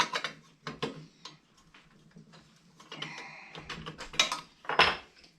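A big crescent wrench is handled against a Coleman 220F lantern while it is taken apart, giving sparse metallic clicks, taps and scrapes in short irregular bursts, close and fairly quiet.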